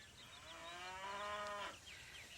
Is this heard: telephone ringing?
no